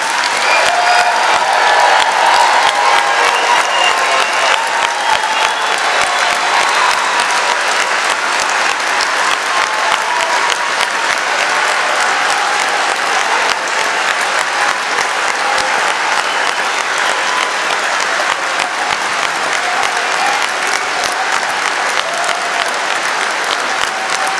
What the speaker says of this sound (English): let's give all the graduates, please, another round of huge applause.